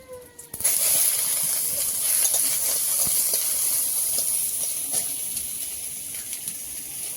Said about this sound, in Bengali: আগে আগে জিরেটা ভেজে নেব